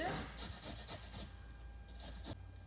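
Carrots being grated by hand with repeated rasping strokes in a steady rhythm, close and moderately quiet, with a kitchen hum underneath.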